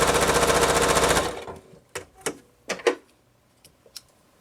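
A sewing machine stitches a quilt block in a quick rhythmic whir for just over a second, then stops, leaving several sharp clicks and taps as the fabric and machine are handled.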